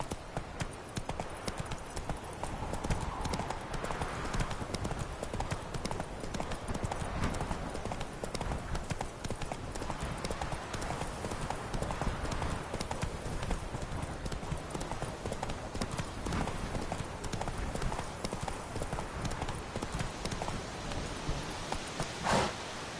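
The horse Roach gallops in a PS4 video game, a fast, steady clip-clop of hooves that runs unbroken and close for the whole stretch, with a faint rustle underneath.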